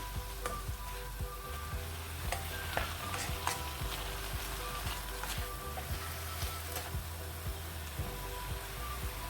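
Chicken fajita filling sizzles steadily in a pan over a high gas flame, a continuous close frying hiss with scattered crackles and spatters and the occasional stir, with no voices.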